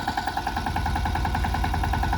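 A small tractor engine runs steadily while spraying pesticide in a groundnut field, a close, even mechanical drone with a rhythmic throb and no talk over it.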